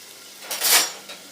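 Onions with salt being sautéed in a pan give a short burst of scraping and sizzling from a spoon or spatula stirring against the pan, rising and fading over about a second, close and without talk.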